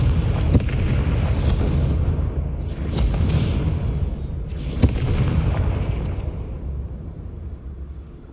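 Confringo fire spell explosions in Hogwarts Legacy: several sharp, booming blasts go off over a loud, rumbling roar of combat that fades near the end.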